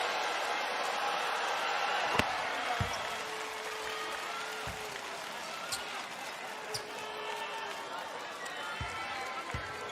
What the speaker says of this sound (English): I think what the crowd is reacting more than anything is that Cody Clark, such a big guy, would go over with that type of contact